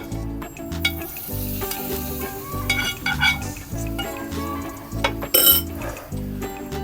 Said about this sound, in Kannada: ಇದು ಒಗ್ಗರಣೆ ಇದಕ್ಕೆ ಹಾಕ್ಬಿಡೋದು ಅಂತ